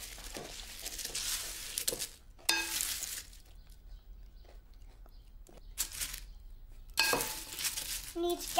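A pan of food is stirred on a hot stove in a children's cartoon, with scraping and clinking bursts over a steady sizzle, separated by quieter stretches.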